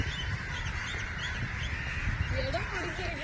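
A crow caws a few times in the distance over outdoor background noise, with people talking nearby.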